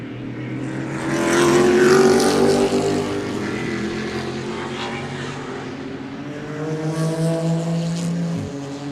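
Corvette race cars lapping at Sebring, engines droning loud and steady as they pass, with a rising swell of engine noise that lingers as the cars run close together.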